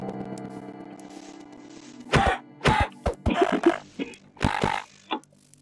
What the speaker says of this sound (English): Had like a little cough lately.